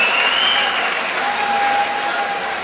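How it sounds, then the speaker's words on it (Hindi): A ceremony audience applauds a Union Home Minister at a Nehru Yuva Kendra closing function as a bouquet is presented, sustained dense clapping from a large crowd, steady and fairly loud from start to finish. "बहुत सारी तालियों के साथ"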